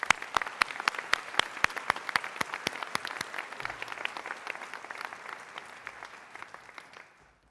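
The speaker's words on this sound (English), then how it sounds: "Please join me in applauding our inductees in the Gold Humanism Honor Society once again." An audience applauds inductees into the Gold Humanism Honor Society at a medical school white coat investiture ceremony. Sharp, dense clapping runs steadily and loudly, then thins and fades out toward the end.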